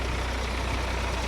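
A tractor engine idles with a steady, low rumble after towing a fishing boat to a fish market, holding an even, continuous drone throughout.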